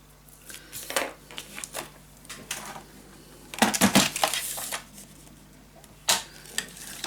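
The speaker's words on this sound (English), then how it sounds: "I am definitely gonna cut this a little shorter" Paper being cut shorter for a scrapbook mini album: a series of irregular snips and crisp rustles, some sharp and clustered, separated by quiet gaps, close by with no talking.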